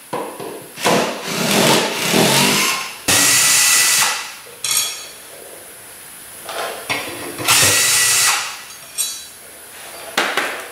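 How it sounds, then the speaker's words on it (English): A cordless drill whirs in several loud, short bursts, with brief pauses between each run as bolts are spun out of a beadlock wheel. "I'll use the cordless drill to take the bolts out"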